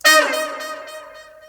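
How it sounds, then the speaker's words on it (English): Brass sample drenched in reverb and delay, a bright chord that blooms and lingers, its tail smearing into a long sustained wash with faint repeating echoes. "I add a lot of reverbs and delays to my sound"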